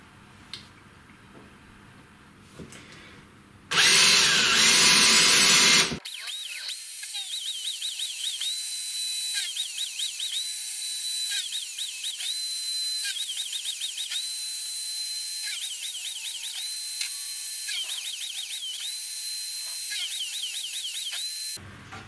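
A high-pitched power drill whirs steadily for a long stretch, drilling slightly oversized holes for a CNC router frame, its pitch dipping repeatedly as it bites into material, after a brief loud burst.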